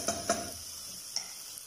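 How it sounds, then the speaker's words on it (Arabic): Mushrooms with spices fry in a pan, a low steady sizzle broken by a few sharp clinks of a stirring utensil near the start and middle. "غادي نخليوها تقلى"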